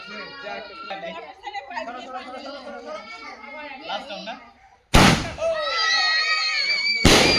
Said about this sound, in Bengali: একদম আতসবাজি যেমন হয়